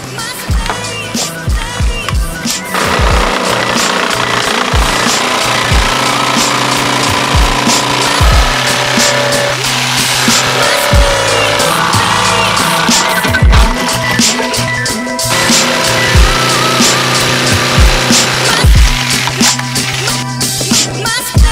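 A power saw cuts a wooden board for a car amplifier mount in place of a spare tire, a loud continuous rasping grind with repeated knocks and bumps as the blade works through the wood, close by.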